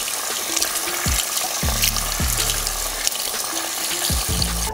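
Water runs steadily from a salon sink tap while long hair is rinsed after a men's spiral perm, a constant close hiss with low gurgles and splashes underneath.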